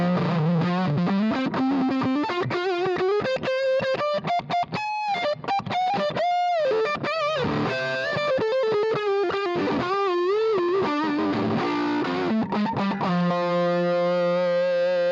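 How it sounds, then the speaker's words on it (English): Marshall Haze 15 guitar amp turned up to full volume, pushing a thick high-gain distorted electric guitar through a continuous run of loud riffs, bends and sustained notes, ending on a held ringing chord. "I'm going to wind the volume on this all the way up so you can hear how much gain there is in there."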